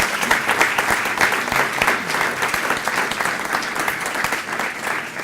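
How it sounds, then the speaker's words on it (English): Audience at a golf club foundation scholar awards evening bursts into sustained applause, dense clapping from a large crowd filling the room at an even level throughout. "So how about a round of applause for them?"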